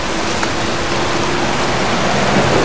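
Steady rain pours in a cemetery at night in the video game Heavy Rain, a dense, even hiss that stays loud and constant without any talk over it.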